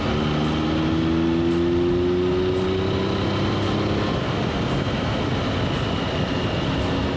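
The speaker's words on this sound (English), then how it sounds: "So we'll try roll on from 50 to 70 mile an hour in 6th." A Triumph Tiger motorcycle rolls on in sixth gear from 50 to 70 mph, its engine note rising steadily as wind roar builds, then wind noise alone dominates at speed.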